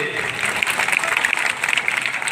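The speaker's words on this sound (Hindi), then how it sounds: "आप लोग इनके लिए एक बार ताली बजा दीजिए" Loud crowd applause for a village head at a Ramlila gathering, brisk uneven clapping with sharp individual claps standing out, steady throughout with no speech over it.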